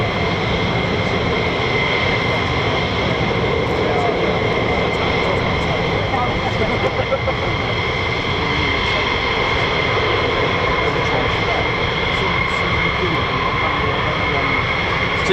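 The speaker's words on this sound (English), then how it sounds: "there were aircraft taxiing. Looks like F-15s from here." F-15 fighter jets taxiing at RAF Lakenheath, home of the 48th Fighter Wing, give off a steady, loud engine whine and roar throughout, with someone speaking over the noise.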